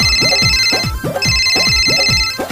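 A phone ringtone for an incoming call plays loud and close. It repeats a bright, steady electronic melody in quick cycles, alone with no speech.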